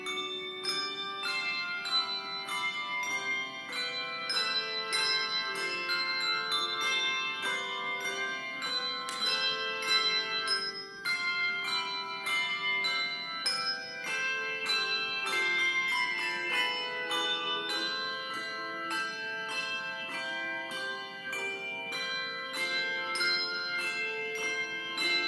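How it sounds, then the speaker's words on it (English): A handbell choir rings many tuned bells in a steady, dense stream of overlapping bright strikes and sustained tones, loud and continuous throughout with no voices. "they're picking up other bells, so they might be in charge of more than just 2 bells"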